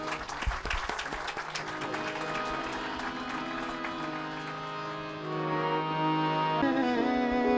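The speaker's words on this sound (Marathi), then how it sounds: "बशर साहेबांसाठी जोरदार टाळ्या" Audience applause for Bashar sahab at the Bazm-e-Bashar gathering in Aurangabad: a dense wash of clapping, loudest at the start, blending into sustained tonal music that swells toward the end.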